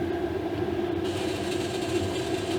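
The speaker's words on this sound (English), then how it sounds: "You can hear the auger feed. You can hear the fan kick on and off." Pellet grill on its burn-in, a GMG Davy Crockett, with the auger feeding pellets and the fan running: a steady close mechanical hum and whir with a constant tone, no talk.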